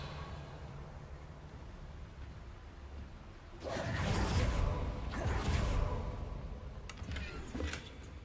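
Casting the Revelio spell in Hogwarts Legacy gives a swelling magical whoosh that rises suddenly after a quiet stretch, sustains for a few seconds, then fades with faint shimmering tails.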